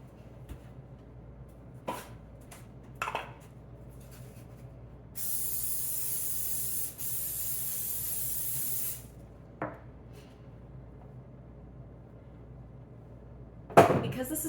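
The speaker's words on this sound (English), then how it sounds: "forgot to spray the insides" Cooking spray hisses from a can into baking containers for gluten-free bread dough in a long, loud burst lasting several seconds. Scattered light clicks and knocks come before and after the spray.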